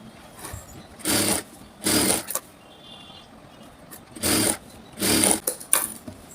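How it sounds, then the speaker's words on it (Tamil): Sewing machine stitching a blouse shoulder seam with a half-inch allowance, running in four loud, close bursts of rapid whirring separated by short pauses. "அரை இன்ச் வந்து இப்போ நான் தையல் போட போகிறேன்"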